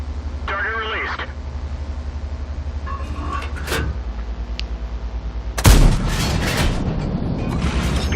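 A single loud, sharp cannon blast from a KV-5 heavy tank in World of Tanks rings out near the end, over a steady hum of in-game battle ambience.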